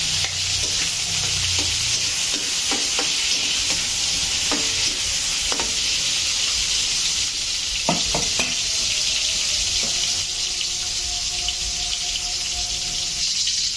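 Onion frying in a pan for a simple home-cooked dish, a steady loud sizzle that continues throughout, broken by occasional scraping clinks of a utensil stirring.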